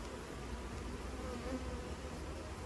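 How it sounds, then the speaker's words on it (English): Honey bee workers buzz at a hive in Antigua, a dense, continuous drone of many wings that is fairly faint and steady and has no voices over it. "All of the bees you're seeing here so far are worker bees"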